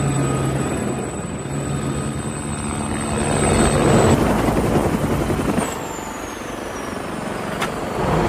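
A police helicopter flies past on its way to a scene, its steady rotor and engine drone filling the clip at fairly close range, swelling in the middle and easing slightly toward the end, with no voices.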